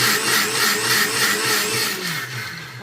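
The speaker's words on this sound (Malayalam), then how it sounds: "മിക്സി ഓണാക്കി" Kitchen mixer grinder whirring as it grinds a masala paste of turmeric and water, a loud, steady motor whine with slight pulsing, tapering off toward the end.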